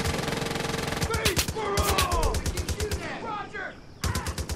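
Rapid automatic gunfire rattles through a firefight in the video game Far Cry 5, with dense bursts of shots, brief gaps and whistling or whooshing effects between them.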